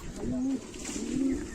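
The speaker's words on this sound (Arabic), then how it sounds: "عندنا الحمام بسم الله ما شاء الله" Pigeons kept in a rooftop loft coo softly at close range, two low drawn-out calls with a short pause between them, under a faint background murmur.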